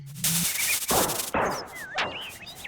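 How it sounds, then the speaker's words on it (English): Explosion alchemy spell in the Secret of Evermore video game, a few sharp blasting bursts with crackling, swooping synthetic effects, loud and close. "Next is Explosion. It's an 87 might attack."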